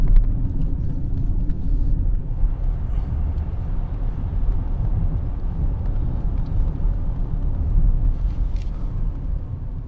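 A Zeekr 001 electric car is driven hard, heard from inside as steady low road rumble and tire noise with a faint whine, sustained throughout without speech.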